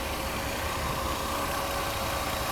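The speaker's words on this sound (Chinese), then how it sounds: "我们来测试它的怠速的稳定性" A Mercedes R129 300SL engine, freshly repaired at the fuel distributor, idles in a workshop with a smooth, even hum and a steady mid-pitched drone that holds unchanged for the whole stretch.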